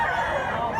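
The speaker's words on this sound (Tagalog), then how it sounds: "Dako nga manok." A big rooster crows close by in a single short, loud, raspy burst.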